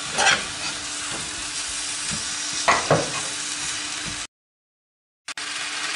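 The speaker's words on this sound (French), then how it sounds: "j'ai laissé ma farine torréfier juste 30 secondes" A heaped spoonful of flour toasts in a hot pan for a beef sauté, giving a steady close sizzle with a few scraping stirs. The sound cuts out briefly, then the frying resumes.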